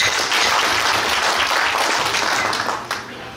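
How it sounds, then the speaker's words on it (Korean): Delegates at the Gyeongju branch's regular delegates' meeting applaud together to approve a motion: dense, steady clapping that fills the whole stretch and eases off slightly at the very end. "일단 박수로 승인 부탁드리겠습니다."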